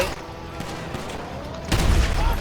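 Explosive ammunition fired from a pistol in GTA V, a few game gunshots over steady background noise, with a heavier boom-like burst near the end; a voice is faintly present.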